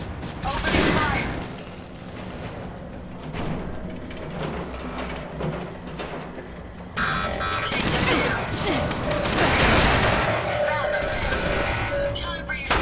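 Gunfire in the Fallout 4 video game, dense bursts of automatic shots and booming impacts that build to a heavy fusillade, with game character voices speaking over the battle.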